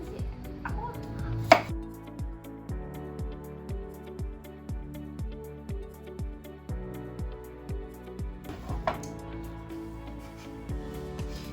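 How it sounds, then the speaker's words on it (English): A knife chops apples into big chunks on a board for butternut squash, apple and leek soup, with steady, evenly spaced thuds repeating over background music. "I'm just cutting it in half, and then I'm just going big pieces here because it's gonna get pureed."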